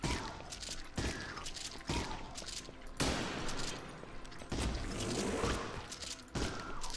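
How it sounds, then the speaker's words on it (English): A shotgun fires in a video game, five loud, sharp blasts spaced roughly a second or more apart, each with a short booming tail. "shotgun"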